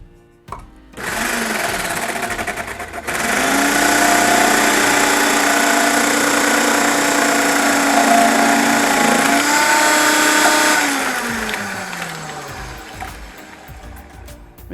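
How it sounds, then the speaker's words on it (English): A food processor chops tuna for homemade reef aquarium food, its motor spinning up loud and whirring steadily with shifting pitch as the load changes, then winding down. "I'll start running everything through the processor"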